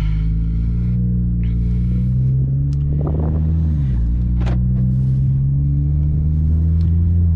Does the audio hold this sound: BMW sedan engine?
yes